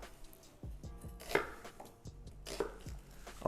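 An onion being cut into large pieces with a knife on a board, about ten crisp, close chops at an uneven pace, each a sharp thud with a quick click, and no talk over them.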